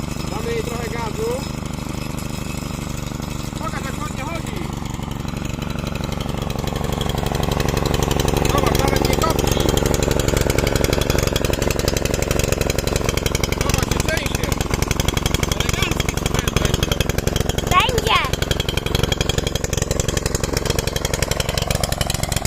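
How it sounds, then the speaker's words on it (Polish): Mustang petrol rotary tiller engine running steadily, a loud buzzing drone that rises in intensity partway through and then holds, with people talking over it. "Także maszynę się udało uruchomić bez najmniejszego problemu"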